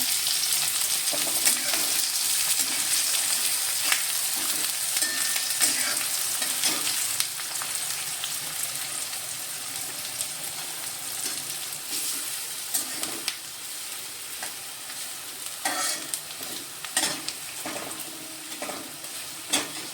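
Onion frying in a pan with cumin and curry leaves for kanda poha. A continuous close sizzle runs throughout, louder at first and then softer, with scattered stirring scrapes and clicks.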